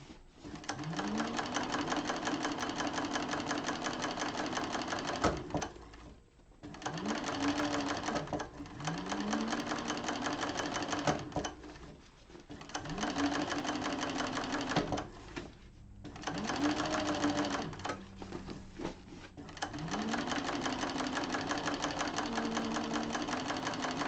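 A sewing machine runs a strengthening line of stitches along a bag seam, humming steadily in several bursts that are broken by short pauses, close and clear, with faint voice in the background.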